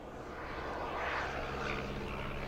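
An RC model jet aircraft accelerating with a steady, loud turbine roar and rushing whine that builds slightly, heard continuously and alone.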